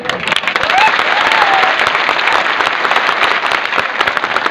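Loud, continuous crowd applause at a Maratha gathering during a shahir's ballad performance, with an indistinct voice rising briefly over the clapping near the start.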